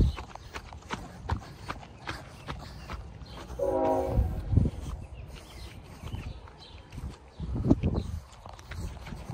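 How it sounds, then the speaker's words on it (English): A train rumbles past with a brief horn blast in the middle, heavy rhythmic clatter of wheels on rails over steady low noise. "Y'all hear the train?"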